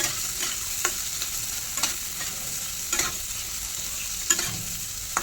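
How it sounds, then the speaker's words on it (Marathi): Boiled potatoes frying in a pan while being stirred, a steady close sizzle broken by regular scraping clicks of the spoon against the pan, with no talk. "आता हे मी उकडलेले बटाटे आहेत ते तर दोन तीन घेतलेले आहेत मी आता हे टाकणार आहोत आपण याच्यामध्ये आता त्याला थोडंसं हलवून घ्यायचं"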